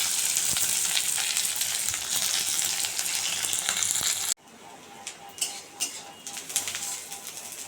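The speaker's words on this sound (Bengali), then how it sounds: "পেঁয়াজ দিয়ে দিলাম" Sliced onions hit hot oil tempered with nigella seeds in a wok, producing a loud, steady sizzle that cuts off abruptly and gives way to softer crackling and spatter pops.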